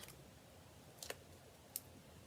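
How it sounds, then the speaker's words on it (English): Ribbon scissors snip ribbon during card making, giving a few quiet, sharp clicks against a faint, hushed background. "Grab your ribbon scissors"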